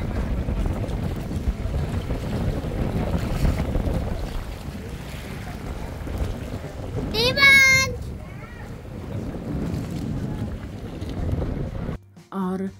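A boat cruises across open water on an island tour near Phuket in Phang Nga Bay, with a steady engine rumble and wind buffeting the microphone throughout, and voices briefly audible over the noise.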